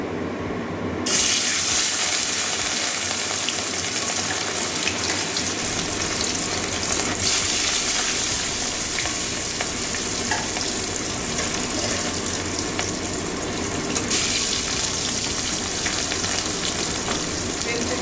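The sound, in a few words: katla fish frying in hot oil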